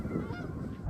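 A large flock of molting geese out in a pea field, giving a steady, dense wash of honking calls that stays fairly loud through the whole second.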